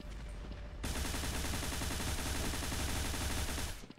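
Rapid sustained gunfire in the online shooter game Truy Kích, a dense continuous burst lasting about three seconds after a quieter lead-in, loud and close, no talk.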